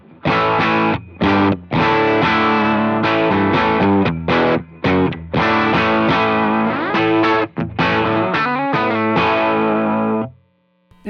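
Electric guitar played through an ACS1 amp simulator loaded with David Hislop impulse responses gives a loud distorted tone with strummed chords and short choppy bursts, ending on a sustained chord that fades out.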